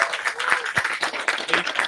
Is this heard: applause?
yes